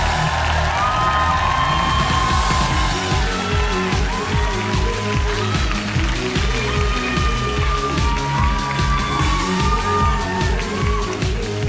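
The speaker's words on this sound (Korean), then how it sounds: "큰 박수로 환영해 주시기 바랍니다." A large audience at a 2017 drama awards ceremony applauds and cheers continuously, clapping mixed with shouts and whoops that stay loud throughout.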